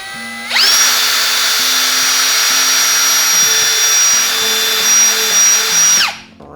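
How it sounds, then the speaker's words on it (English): Power drill with a 5/32 drill bit boring a hole for a DIY live micro bait well, a loud high whine that spins up, holds steady for about five seconds, then winds down, with no talk. "we're going to use a 5/32 drill bit. And we're going to tap our first hole on our mark."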